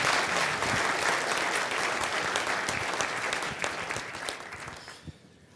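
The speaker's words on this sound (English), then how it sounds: "Give them a round of applause for that" An audience applauds at a seminar, with a dense burst of many hands clapping that gradually thins, leaving a few scattered claps before it stops.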